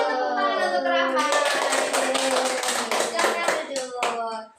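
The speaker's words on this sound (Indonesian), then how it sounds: "Beri tepuk tangan untuk Rahma" A classroom of Indonesian students claps for a classmate, a steady wash of many hands near and loud throughout, with children's voices chattering over it.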